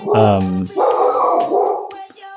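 A dog barks and yips in a few bursts close by, loud over people talking through most of the stretch.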